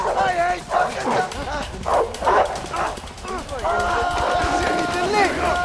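Several dogs bark and yip in a chase sequence from the video game A Way Out, with repeated close barks and whimpers under excited voices that talk throughout.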